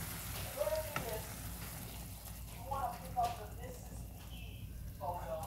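Eggs for a cheese omelette sizzle as they are poured into a hot pan, a steady frying hiss with faint stirring clicks while someone talks over it.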